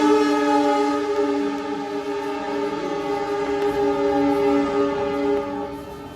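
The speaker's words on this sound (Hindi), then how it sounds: "ट्रेन चलने लगी तो ऐसा लगता है कि चहल पहल हो रही है।" A passing train sounds steadily for about six seconds, a loud sustained tonal horn or whistle with stacked harmonics over rumbling rail noise, fading slightly at the end, with no talk.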